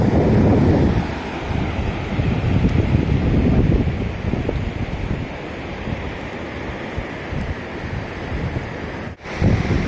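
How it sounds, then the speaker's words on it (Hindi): Arabian Sea surf rolls onto Cansaulim beach in Goa with a continuous washing roar, while gusts of wind buffet the microphone throughout and no one speaks. "देखिए पानी की लहर चल रही है"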